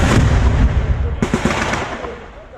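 Gunfire rings out during a military defensive combat drill, a loud dense burst of rapid shots and blasts followed by a few distinct cracks that trail off into echoing rumble.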